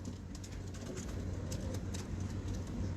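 Pigeons cooing on a rooftop loft, soft low repeated coos under a steady wash of outdoor background noise, with no talk.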